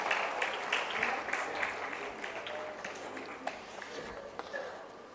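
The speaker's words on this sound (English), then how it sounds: "A big round of applause for Dr." A round of applause at a medical awards ceremony, a crowd clapping loudly at first and then slowly thinning out, with scattered sharper claps near the end.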